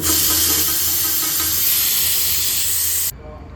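Tea on the boil in a pot makes a loud, dense, steady hiss and bubbling roar close by, cutting off abruptly near the end to a quieter background.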